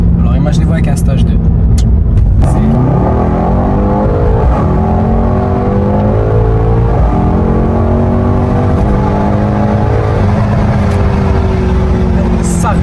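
A Mercedes C63s AMG with carbon-ceramic brakes accelerates hard, its engine loud and close, rising through repeated climbing pitch sweeps with gear changes across the whole stretch, with a voice talking over it.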